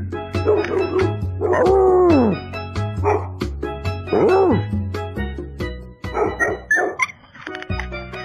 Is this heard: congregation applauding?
no